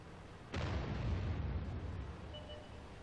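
A tank cannon fires in World of Tanks, a sudden loud boom from an AMX M4 45 on the Sand River map, followed by a long rumbling decay with no voices.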